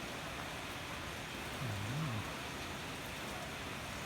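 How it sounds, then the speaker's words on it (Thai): Steady, even hiss of rain falling outside, constant throughout with no breaks, heard from indoors under a roof with a faint low rumble underneath. "ข้างข้างนอกฝนตกนะครับ ข้างนอก"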